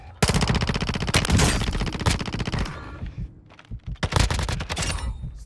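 In Call of Duty: Modern Warfare II, a loud rapid burst of automatic gunfire rattles for a couple of seconds, then breaks into shorter uneven volleys and single shots, close and dominant.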